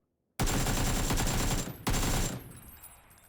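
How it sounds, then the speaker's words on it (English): An AK rifle in a video game fires at an unnaturally fast rate: two loud, close, sustained automatic bursts with a short gap between them, then a fading tail. No one talks. "he mows him down with his super fast shooting AK"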